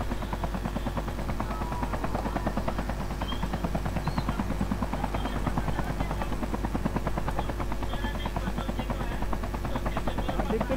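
A helicopter in a Call of Duty game, a loud continuous rotor chop and engine drone holding steady the whole time, close and dominant.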